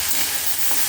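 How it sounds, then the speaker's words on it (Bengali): Vegetables sizzle and fry in a pan with turmeric and salt, a steady close crackling hiss filling the whole moment without any talking. "দিয়ে এবার এটা লাল লাল করে ভাজবো আগে।"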